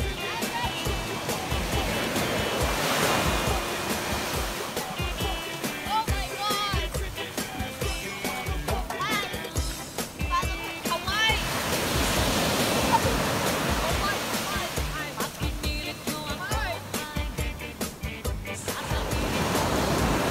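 Ocean surf rolls and crashes onto a beach at Dinadiawan in repeated surges, close and loud, with people talking intermittently over the waves.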